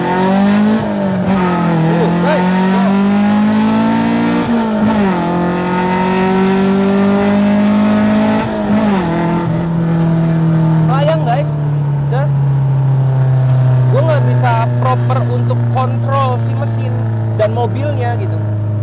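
A modified Honda Civic EG6 Estilo revs hard and accelerates through its VTEC range, engine pitch climbing in repeated sweeps, then settling into a lower drone while someone talks over it.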